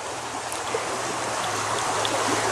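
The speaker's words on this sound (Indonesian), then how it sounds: "Di sini terdapat sebuah sungai" A river beside a disused railway line in Garut, a soft, steady broadband rush of flowing water at moderate distance, continuous and unchanging, with no voices.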